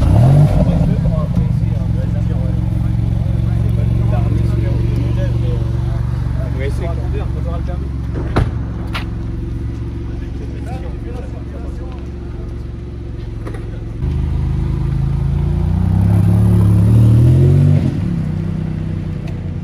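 Bugatti Bolide supercar idling with a steady low rumble after a cold start, then a couple of throaty revs near the end, heard outdoors in Paris at close range while people talk over it.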